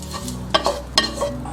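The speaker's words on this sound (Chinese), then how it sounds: "锅里面喷入一点食用油，先下入蛋液，给它快速滑散。" Beaten egg stir-frying in hot oil in a wok, a steady close sizzle broken by several quick scraping and stirring strokes of a spatula against the metal.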